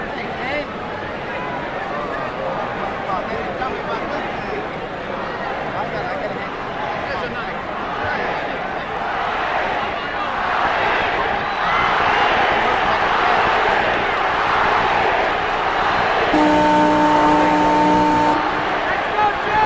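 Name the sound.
boxing crowd chanting Ali at Ali vs. Frazier fight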